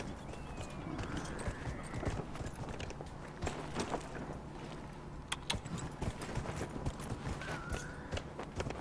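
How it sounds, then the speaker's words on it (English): Horse hooves clip-clop at a steady riding pace in Dragon Age: Inquisition, close and continuous over a busy bed of game ambience, with no one talking. "I haven't been riding my horse at all."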